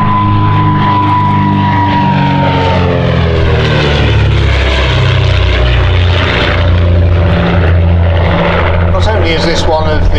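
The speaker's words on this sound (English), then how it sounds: "one of the most historic aeroplanes in the Shuttleworth collection" A historic propeller aeroplane from the Shuttleworth collection roars loudly overhead at an air show, its engine pitch sliding downward as it passes, steady and close throughout.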